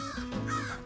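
A crow caws outdoors beside a river, a single harsh call lasting under a second, fairly close and clear with no talking over it.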